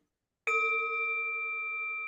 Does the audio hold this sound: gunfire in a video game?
no